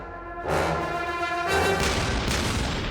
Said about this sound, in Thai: พลุระเบิด